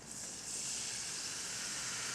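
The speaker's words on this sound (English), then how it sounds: "Hear that sizzle?" Cold water poured into a hot pan while making a roux sizzles in a bright, steady hiss that swells after a brief quieter start and then holds evenly, close by, with no talking.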